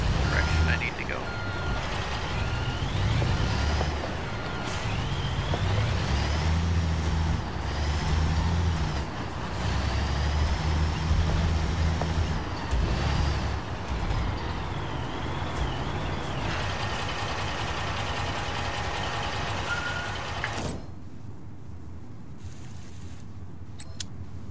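In the video game Construction Simulator, a truck's engine rumbles steadily while a reversing alarm beeps in a repeated rhythm, with a hiss like an air brake near the end, and a voice talks over parts of it.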